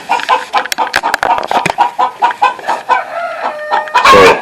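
Chickens clucking inside a coop, a close, busy series of choppy clucks and squawks that ends in a louder burst of calls.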